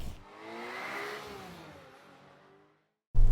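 A Toyota Land Cruiser or Lexus GX 550 engine accelerating on the road, a moderate rising whir that climbs and fades over a few seconds before a brief silence and a sudden bump.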